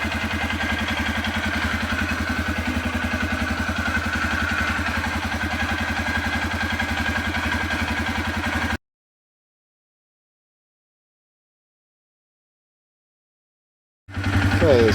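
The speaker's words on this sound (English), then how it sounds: "now it's been idling for a while. RPMs are 1300 about, so the engine's warmed up" An engine idles steadily at about 1300 RPM after warming up, with a close, even rhythmic chug and light clatter that runs unbroken, then goes silent and briefly returns near the end.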